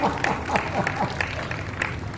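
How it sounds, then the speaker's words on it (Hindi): Applause from a live stand-up comedy audience, a steady wash of many hands clapping with individual claps standing out, sustained and fairly loud throughout. "अच्छा लगा आप ताली बजा रहे हैं"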